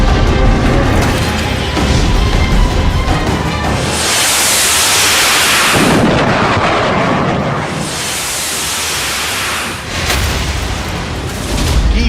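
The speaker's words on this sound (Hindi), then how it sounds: "मिसाइलों के हमले, बमों के धमाके" War footage from Ukraine carries loud, roaring blasts of bombs and artillery, two long rushing booms dominating a dense, noisy background.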